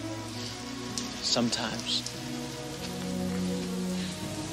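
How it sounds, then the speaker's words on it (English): Steady rain falls on surfaces in a close, continuous patter, with brief voices and other sounds breaking in partway through. "I wish the rain would stop just once. It can't rain all the time."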